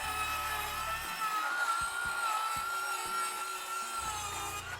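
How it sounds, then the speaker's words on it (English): A circular saw rides along a clamped 2x4 fence, cutting a straight line through wood: a steady, loud whining cut with a few low thumps and knocks, no talk. "you now have a fence that your circular saw can ride on, giving you just enough support to cut that straight line"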